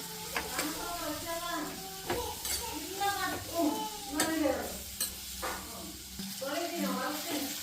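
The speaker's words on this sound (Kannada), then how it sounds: "ಹೆಚ್ಚಿಟ್ಕೊಂಡಿರೋ ಈರುಳ್ಳಿನ ಹಾಕ್ಕೊಳ್ಳಿ, ಚೆನ್ನಾಗಿ ಮಾಗಿಸ್ಕೊಳ್ಳಿ" Chopped onions frying in a pan, a soft sizzle with repeated stirring scrapes underneath someone talking steadily throughout.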